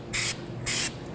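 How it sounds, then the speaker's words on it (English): Two short bursts of anti-seize spray hiss from a can onto the rear wheel hub of a 2006-12 Toyota RAV4 during a brake job, each about a fifth of a second, close by with quiet gaps between. "I like to spray some anti-seize on the hub"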